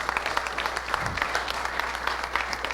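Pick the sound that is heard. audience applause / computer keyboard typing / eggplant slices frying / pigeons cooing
audience applause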